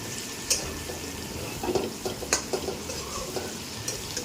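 Cauliflower fries with spices in a pan, stirred with a utensil; scraping clinks and soft knocks come irregularly over a steady sizzle, close and moderately loud, with no talk.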